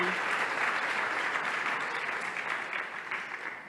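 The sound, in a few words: audience applause in memory of Pedro Meca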